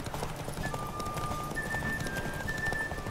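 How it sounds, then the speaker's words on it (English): A horse gallops in a horse race in The Witcher 3, with steady hoofbeats drumming over continuous game ambience and a thin tonal music line. "Getting beaten by Kira in a horse race"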